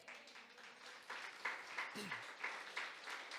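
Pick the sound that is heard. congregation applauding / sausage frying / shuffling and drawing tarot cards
congregation applauding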